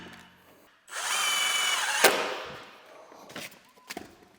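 A power drill drives screws into window blind brackets, a steady whirring burst of about a second and a half ending in a sharp knock, followed by a few faint taps and clunks.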